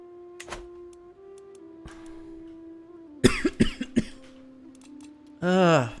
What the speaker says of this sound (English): The more I talk, the worse my cough gets now.